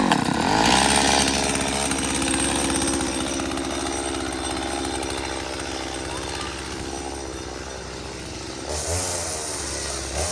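A chainsaw runs steadily after being started during cherry tree removal, a loud buzzing drone close by with a rev near the end.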